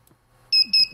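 Piezo buzzer on an F200 race drone beeping in two short, loud, high-pitched bursts, close up, after a moment of near silence.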